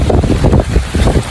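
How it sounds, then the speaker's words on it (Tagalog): Strong gusty wind buffets the microphone outdoors during stormy weather, a close, loud rumbling roar that surges in uneven pulses. "Kaso lang, hangin, guys, grabe."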